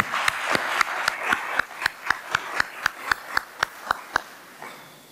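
A small audience claps at a forum, sparse individual handclaps arriving in a steady, evenly spaced rhythm before fading out.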